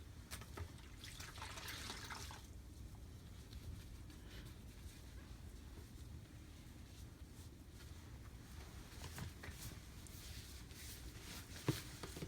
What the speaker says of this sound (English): Gonna wash, rinse arm.